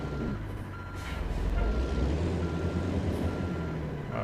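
A truck reverses with steady repeated backup beeps over a low, rumbling diesel idle, heard close and moderately loud.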